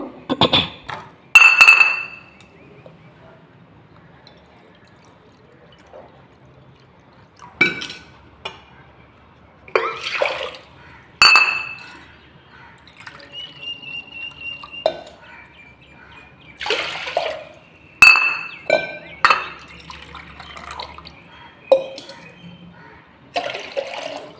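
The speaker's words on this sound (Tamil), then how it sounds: "அந்த கப்பால் மூணு கப் தண்ணி வந்து நம்ம குக்கரில் சேர்த்துப்போம்" Water pours in several short splashing bursts into a metal pressure cooker, with clinks of a cup against the rim between pours.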